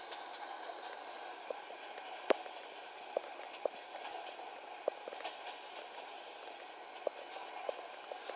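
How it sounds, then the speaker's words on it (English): A long FEC intermodal double-stack train pulled by two locomotives runs at speed in the Trainz 06 game, a faint steady rumble broken by sparse, irregular wheel clicks. "It's amazing to see this big stack train being pulled by two engines at a really decent speed."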